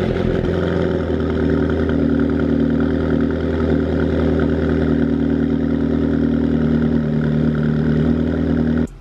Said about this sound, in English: let's get one more cold start on the stock McLaren 12C sport exhaust